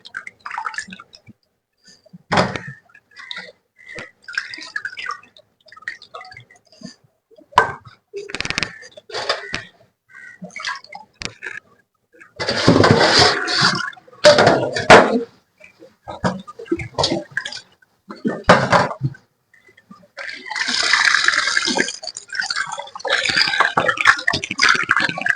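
Pieces of beef being washed in water, with irregular splashing, sloshing and handling sounds in short bursts, some longer spells of running water toward the end, close by and moderately loud.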